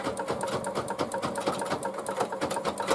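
A sewing machine runs steadily, tacking down an appliqué hat on a hooded towel, its motor and needle making a fast, even rhythmic whir that fills the whole stretch without pause.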